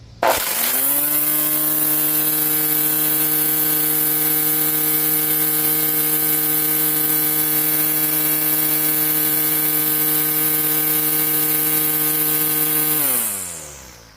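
A Homelite plug-in electric string trimmer whirs steadily at a high, constant pitch for about thirteen seconds, close and loud, then spins down at the end.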